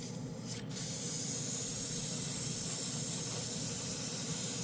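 A Swallowtail side-feed airbrush sprays paint out in a steady, close hiss that starts abruptly after a brief quieter moment and holds evenly to the end, with no voices.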